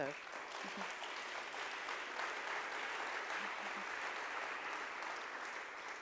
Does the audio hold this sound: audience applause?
yes